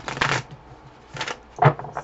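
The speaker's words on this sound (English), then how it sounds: "We're going to pull a few cards from Love and Confusion." Tarot cards being shuffled by hand: two short riffling bursts of papery flutter followed by a sharper tap, close and fairly loud with no talking.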